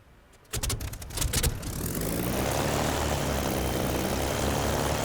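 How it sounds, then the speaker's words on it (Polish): A Bf 109 K-4 fighter engine in the DCS flight simulator sputters and catches, a few rough bursts, then settles into a loud, steady propeller drone while warming up. "I teraz grzejemy silnik."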